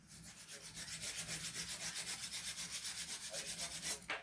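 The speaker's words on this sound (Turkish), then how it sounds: "Çünkü sürekli zımparayla çalışıyorsunuz." Sandpaper rubs back and forth along a wooden oar in quick, even strokes, a steady rhythmic rasping close to the listener with no voices.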